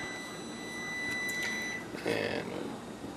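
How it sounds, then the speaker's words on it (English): A kitchen oven timer beeps while a turkey bacon souffle frittata bakes, giving a few faint electronic tones over steady room noise in a home kitchen. "the timer's about to go off"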